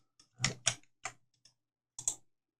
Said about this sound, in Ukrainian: Тепер, коли я натискаю цю комбінацію клавіш